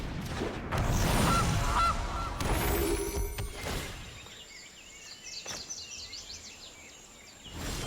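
Cartoonish goose honks from the Gilded Goose card in the digital card game MTG Arena, a few quick honks over game music and effects, fairly loud and alone with no talk.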